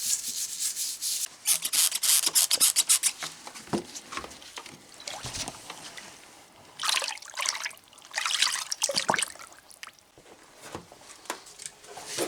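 Engine pistons from an American diesel Suburban are scrubbed with solvent and a dish brush, giving close, uneven bursts of wet bristle rubbing with trickling liquid between strokes.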